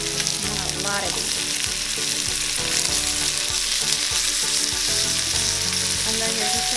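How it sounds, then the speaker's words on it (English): Green onions, peas and carrots stir-fry together on low heat for fried rice, giving a loud, steady sizzle with stirring scrapes throughout and no talking. "you're just gonna stir fry them together on low heat until all the vegetables are a little soft and charred"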